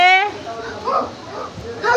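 A voice imitates a dog barking in short, high yelping bursts at the start and end, with breathy sounds between them.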